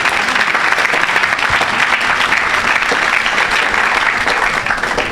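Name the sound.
congregation applauding for Jesus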